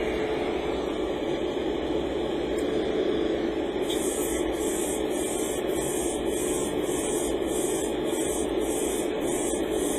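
Steady hiss of an airbrush spraying light coats of paint onto a Gunpla model part, continuous and close, with a faint pulsing texture partway through and no talking.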